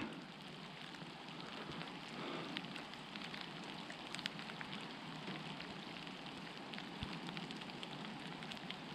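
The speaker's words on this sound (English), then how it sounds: "And now it started to rain quite heavily." Heavy winter rain pours steadily, a dense continuous hiss of drops drumming on a surface, close and unbroken throughout with no voices.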